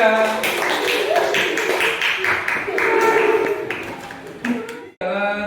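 Students in a classroom clap for a presenting group, a dense patter of claps under murmuring voices lasting several seconds, ending abruptly before a voice resumes.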